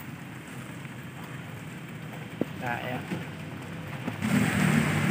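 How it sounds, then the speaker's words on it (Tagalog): Heavy rain from a lingering storm drumming steadily as a dense wash of noise, growing louder near the end, with people talking over it. "sinabutan tayo ng malakas na ulan. Hindi pa pala umaalis ang bagyo."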